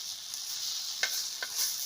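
Fish fries in hot oil over a high flame, a steady close hissing sizzle broken by two short spattering pops, with no voices.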